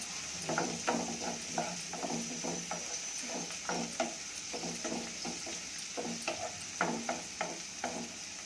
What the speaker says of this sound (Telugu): ఇందులోకి కొంచెం పసుపు వేసి ఒకసారి తిప్పుదామంతా.